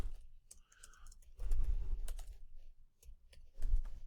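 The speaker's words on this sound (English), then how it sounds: "you literally just start typing" Bursts of keyboard typing, quick light clicks in short runs with pauses between, fairly close and moderately quiet.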